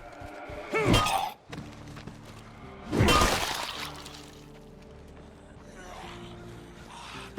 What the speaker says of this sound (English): I'm just gonna throw a bloater grenade